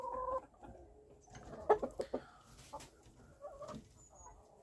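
Several Araucana chickens cluck in short bursts nearby, with scattered squawks and farmyard rustling, fairly quiet overall.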